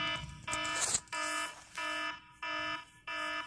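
An alarm clock rings in repeated bursts of a bright electronic tone, with short gaps between them, close and loud, no voices.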